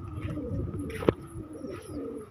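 Domestic pigeons cooing at a rooftop loft, a soft low murmuring coo under steady outdoor background noise, with one sharp brief tap or click in the middle.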